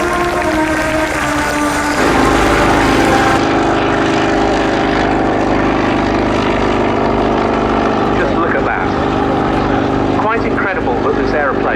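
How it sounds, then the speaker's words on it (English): Royal Air Force Battle of Britain Memorial Flight propeller aircraft flying past at an air show, a loud steady engine drone with shifting tones as it passes, close and continuous throughout. "the Royal Air Force Battle of Britain Memorial Flight."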